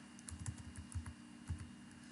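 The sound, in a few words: typing on a computer keyboard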